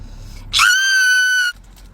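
A single loud, sustained high-pitched scream lasting about a second, rising sharply then holding steady before cutting off abruptly, with quiet background before and after.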